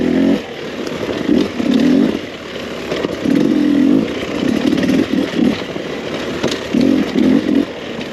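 A 2021 Beta 300RR two-stroke dirt bike engine buzzes and revs in repeated bursts while riding flowy trail, rising and easing throughout, fairly near and steady with no talking.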